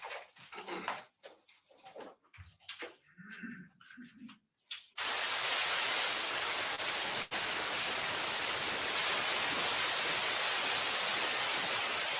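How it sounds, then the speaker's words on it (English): In a courtroom, loud steady white noise switches on abruptly partway through and hisses continuously to the end, after a stretch of people talking. "They got white noise going."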